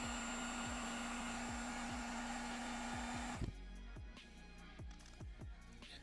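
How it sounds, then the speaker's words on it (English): A heat gun blows steadily at close range while heating a threaded T-nut insert and the plastic base around it, a constant airy roar with a faint tonal whine, then it shuts off and light handling noises follow. "So all I'm going to do is take a heat gun, heat up the insert, heat up the base material just a little bit"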